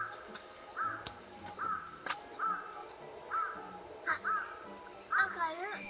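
Crow caws several times in a steady rhythm of short, harsh calls at moderate distance, with a constant high insect drone behind and a voice briefly speaking near the end.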